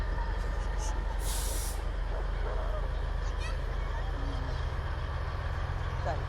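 A big truck in a small-town fair parade lets out a short sharp burst of air-brake hiss over a constant low idling engine rumble, with faint crowd noise around.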